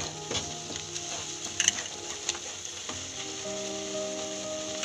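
Dry coconut cooking in a pan for barfi, a soft hiss with light scraping and a few spoon taps, quiet and close with no talking.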